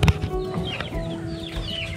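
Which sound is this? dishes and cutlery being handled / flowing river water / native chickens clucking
native chickens clucking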